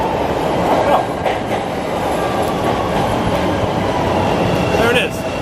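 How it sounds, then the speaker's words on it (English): An elevated train on a Chicago line pulls into the station on the way toward Wrigleyville, its steady rumble and wheel noise loud and close throughout with a couple of brief squeals. "Waiting on the train."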